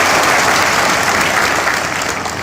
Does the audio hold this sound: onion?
no